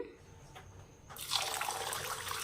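Running water splashes steadily from a tap after a brief quiet start, a close, continuous gush as soaked lentils are rinsed underneath.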